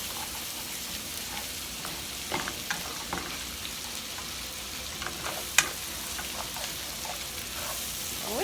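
Rice-a-Roni browns in butter in an Instant Pot with a soft, steady sizzle, broken by occasional light scrapes and clicks of a utensil stirring through it.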